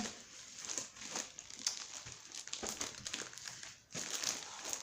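Crinkling and rustling of tape and packaging, close and fairly quiet, in irregular bursts with a sharper crackle near the end.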